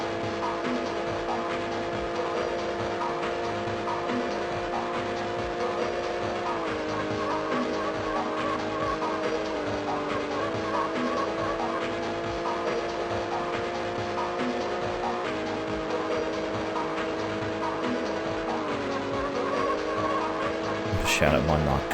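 A Porsche 550A Spider races laps around Monaco in Need for Speed: Porsche Unleashed on the GBA, its steady buzzing engine tone rising and dipping with gear shifts throughout, continuous and close.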